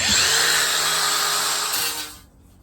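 An angle grinder smoothing down a weld on the body of a 1972 VW Super Beetle, a loud, steady high-pitched grinding whine up close that cuts off near the end.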